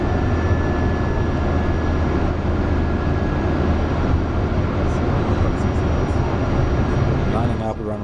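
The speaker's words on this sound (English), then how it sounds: "It's a very, very powerful turbine aircraft." A Pilatus PC-12 NGX turbine engine running up before takeoff at Mönchengladbach gives a loud, steady whine and roar with a constant tonal hum. A voice briefly cuts in near the end.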